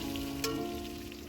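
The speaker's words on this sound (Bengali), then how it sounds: "আলুগুলো ভালো করে ভাজতে হবে," Potato pieces sizzle in hot oil for a mutton curry, a soft, fairly faint frying hiss with a brief stirring clatter, beneath quiet background music.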